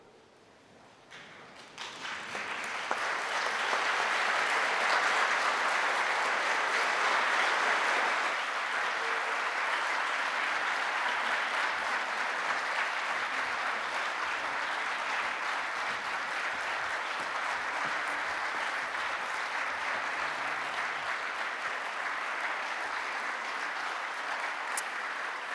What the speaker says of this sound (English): can I please ask you all to stand and give a round of applause for your senior officers of the University of Liverpool